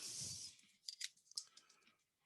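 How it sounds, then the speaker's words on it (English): Scissors snip along a marked line on material wrapped around a cylinder, a short burst of close, crisp cutting followed by a few sharp clicks and faint handling noise. "Cut along my mark."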